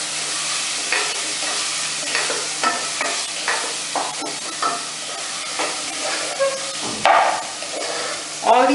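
Spiced masala for a malai gravy frying in a pan, a steady loud sizzle punctuated by repeated spatula scrapes and knocks against the pan as it is stirred, close up and without talk.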